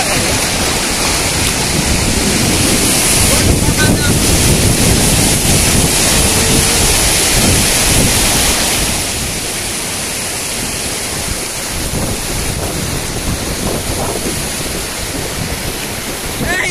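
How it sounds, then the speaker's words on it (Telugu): After heavy rain, water gushes out through a breach in a village pond bank. It makes a loud, continuous rushing roar that eases slightly partway through. "అక్కడ చెరువు దగ్గర ఉన్న ఒక గండి అయితే దిగింది అందుకే అక్కడ నుంచి వాటర్ మొత్తం ఈ విధంగా"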